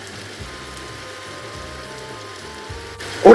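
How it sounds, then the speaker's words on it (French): Heavy rain falls steadily during a summer thunderstorm, a dense even hiss with soft low rumbles, ending in a sudden louder burst. "vous voyez comment il pleut? Et il continue toujours de pleuvoir assez fort."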